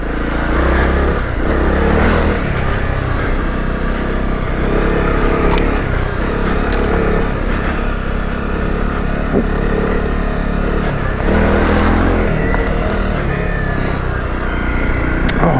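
A Honda CRF250 Rally dirt bike rides in second gear, its engine buzzing loud and close without a break and swelling briefly now and then as the throttle opens and eases.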